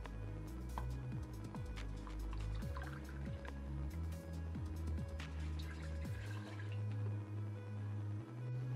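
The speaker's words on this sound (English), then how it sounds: "I'm also going to add in 1 cup of water" A cup of water is poured into a pressure cooker fitted with a steamer rack, a quiet close-up trickle and fill with faint drips and a slowly changing tone.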